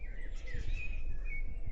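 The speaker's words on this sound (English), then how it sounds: "It's so peaceful here, just listening to the birds tweet" Birds tweeting in the quiet countryside, faint high chirps and short whistles over a soft background hum, no one talking.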